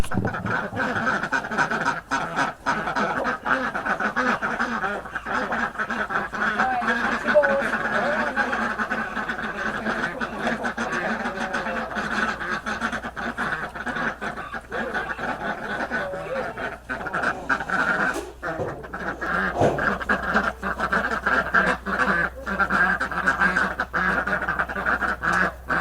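Hungry ducks quack steadily at feeding time, a dense, continuous chorus of calls close by with chickens crowding around, the flock noise sustained throughout with occasional louder bursts.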